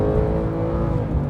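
A 500-horsepower Porsche 911 sleeper's engine revs up close, a loud sustained growl over barely more than a second.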